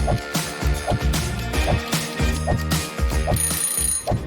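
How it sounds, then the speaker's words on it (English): A mobile phone rings with a loud, repeating electronic ringtone, its short melodic bursts pulsing in a steady rhythm throughout, with no talking. "That's when the phone rang."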